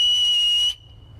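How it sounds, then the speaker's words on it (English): A loud, steady high-pitched whistle blast holds for under a second, then cuts off abruptly, leaving a faint lingering tone and low background rumble. "That loud whistle worked and scared the bear off."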